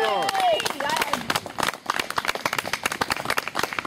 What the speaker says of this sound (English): And I'd like your applause if you agree.